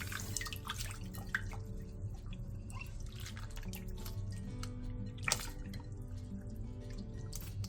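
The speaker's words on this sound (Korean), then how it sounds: "데친 연근은 바로 찬물에 담근 뒤 문질러 가면서 씻어 점액을 한번 제거해주세요" Blanched lotus root being scrubbed and rinsed in a basin of cold water: continuous soft splashing and dripping with occasional sharper sloshes, close and steady, no speech.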